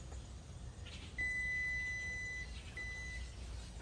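A multimeter in continuity mode beeps while testing fuses in an HVAC fusible disconnect: one long steady tone followed by a shorter second beep, clear over a faint background hum.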